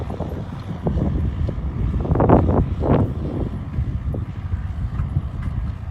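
Strong, gusty wind buffets the microphone outdoors in a farm field near Ankara, Turkey, during tractor tilling, with a rough, low rumble that swells and fades.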